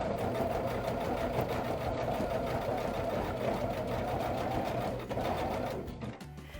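A Baby Lock sewing machine stitches continuously under presser-pedal control, a steady close mechanical whir with a rapid needle rhythm that briefly dips and then winds down near the end.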